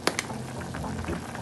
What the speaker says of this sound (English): Look at that rice boiling up in the pot.